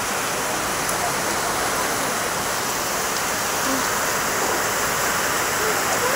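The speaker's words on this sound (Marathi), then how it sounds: "खूप जोरात पाऊस आहे।" Heavy rain pours down in a loud, unbroken roar of dense hiss that stays steady throughout, with no voices standing out.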